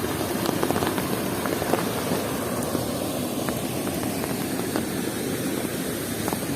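Heavy rain pouring down during a ride in Odisha, a dense continuous hiss of drops on surfaces with scattered sharper patters and a low rumbling undertone, steady and fairly loud with no talking.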